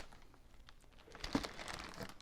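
Soft crinkling of thin plastic, quiet at first and then a louder burst of rustling handled close by.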